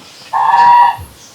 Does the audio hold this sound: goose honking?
yes